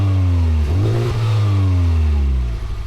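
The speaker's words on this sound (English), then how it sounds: "Honda says the center exhaust pipe is functional, a resonator that offers a little extra snarl when the throttle's punched." A 2018 Honda Civic Type R engine revving hard through its functional center resonator exhaust, a loud, close, sustained snarl whose pitch climbs and dips as the throttle is worked, with no voices.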